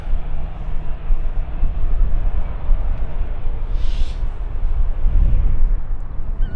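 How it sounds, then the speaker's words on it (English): Emirates SkyCargo Boeing 777 freighter arriving on runway 18R at Schiphol Airport, a loud, steady low rumble of engine and wind noise that holds throughout with a brief airy hiss partway through. "Next up we get the Emirates Sky Cargo 777 arriving from Aguadil in"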